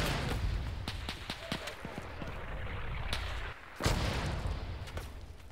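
Mortar and gunfire in the video game Arma 3 with a WW1 mod, with scattered sharp reports and booms, a heavy blast near the end, over a constant low rumble.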